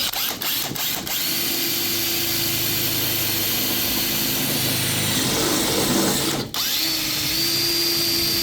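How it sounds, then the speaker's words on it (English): A power drill whines steadily through the metal of a car fender for several seconds, briefly cutting out near the end before spinning up again, loud and close. "so I'm going to drill it out."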